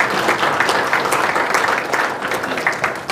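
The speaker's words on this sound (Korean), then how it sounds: "한번 박수 쳐주세요." Audience applause at a Korean shared-growth forum, a dense, steady clatter of many hands across the room, sustained at an even level without pause.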